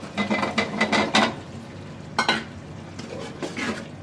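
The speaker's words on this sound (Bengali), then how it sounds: "এখন আমি দিয়ে দিব এই আলু আর টমেটো।" Potatoes and tomatoes are dropped into a well-fried spice mix in hot oil, bringing a burst of sizzling and stirring clatter, then a pause and a few more scraping stirs.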